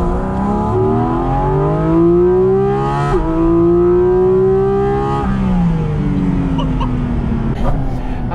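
A Porsche 718 Cayman GT4 RS engine roars through its carbon-fibre intake as it accelerates, pitch climbing steadily, dropping briefly at gear changes, then pulling hard again.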